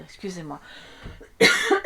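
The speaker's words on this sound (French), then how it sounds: "Oui, je tousse" A person speaks briefly, then coughs loudly and harshly close to the microphone.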